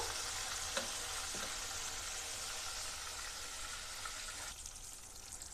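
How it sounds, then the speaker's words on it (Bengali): Oil sizzles and crackles steadily as pieces of katla fish fry close by in a pan, a continuous hiss with a few soft knocks. "আর এক পিট লাল লাল করে ভেজে নেব"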